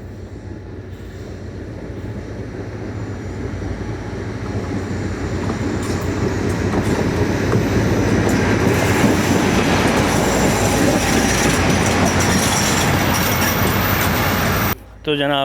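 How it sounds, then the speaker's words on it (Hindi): Shah Latif Express, a six-coach passenger train, arriving at Ranpethani railway station, with a loud steady rumble of wheels and carriages building over the whole span, the clatter swelling and holding near the end, faint voices around. "हॉर्न की आवाज़ जनाब आ गई है और ये मोस्ट लाइकली आ रही है 151 अप शाह लतीफ़ एक्सप्रेस।"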